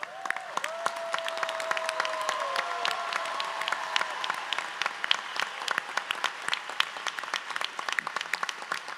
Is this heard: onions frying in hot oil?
no